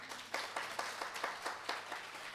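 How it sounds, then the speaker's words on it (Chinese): An audience at a motivational talk claps in a brief, fairly rhythmic burst of applause, moderately loud and close, with no talking over it. "掌声。"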